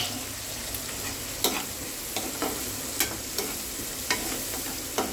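Onion and masala fry in oil for a bitter gourd dish, a steady, moderate sizzle punctuated by regular spatula scrapes roughly every second.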